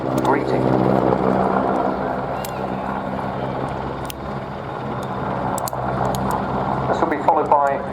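Merlin helicopter in an airshow flying display, a loud throbbing rotor and turbine roar that swells and shifts as it yaws, with a commentator talking over it.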